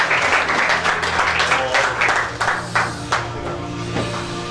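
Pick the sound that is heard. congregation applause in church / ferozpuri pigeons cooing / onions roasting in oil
congregation applause in church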